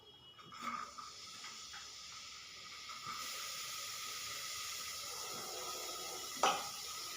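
Onions dropped into hot oil in a pan hiss and sizzle as a steady, quiet crackle, with a couple of soft clinks from the pan and no talking.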